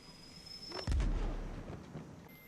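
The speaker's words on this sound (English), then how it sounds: "Who the hell's got flashbangs?" A flashbang from an episode of The Last of Us goes off as a single sharp, loud bang that leaves a rumbling decay, followed by a high ringing tone.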